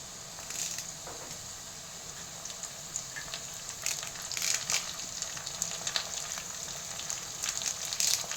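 Curry leaves dropped into hot oil in a pan, after well-sautéed onions for a brinjal kara kuzhambu, crackle and sizzle steadily at close range. Crisp pops and spits build louder toward the end, with no talk.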